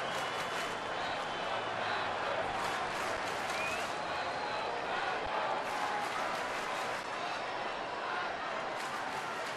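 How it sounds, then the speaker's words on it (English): A Detroit Tigers home baseball crowd of about 37,000 facing Arizona in June 2011 keeps up a steady broadband roar of murmur and scattered cheering, with no clear breaks for the whole stretch. "That play has given the Tigers crowd here a little bit of life"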